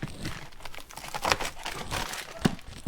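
Plastic foil covering styrofoam is handled during renovation work, giving soft, irregular crinkling and rustling close to the microphone, quiet and alone.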